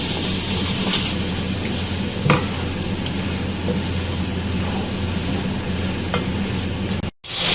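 Onion and green chili paste frying in oil in a pan for Peshawari namkeen gosht: a steady, close sizzle runs throughout, with occasional scraping from stirring and no talking.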